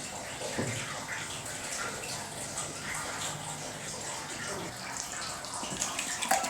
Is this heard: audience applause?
no